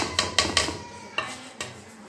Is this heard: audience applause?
no